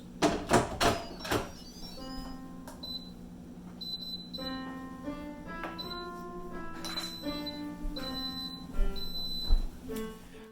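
An Instant Pot signaling the end of cooking, a series of short electronic beeps at a steady pitch spaced out over several seconds, mixed with a few kitchen thumps and clatters, no voices.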